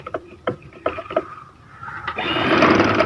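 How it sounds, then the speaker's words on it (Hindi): Several soft clicks and taps lead into a sewing machine starting up and running steadily, stitching closed a salwar trouser hem decorated with shiny anchor thread. "एक सिलाई लगाएंगे, तो पांचा कंप्लीट हो जाएगा।"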